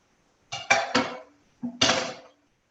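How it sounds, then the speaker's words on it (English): Dinner plates clatter on a kitchen counter as one plate is swapped for another and steak is taken off. Three quick ceramic clinks come first, then a pause, then two more knocks, close and crisp with silence between. "I'm going to change out my plate here and take the steak off"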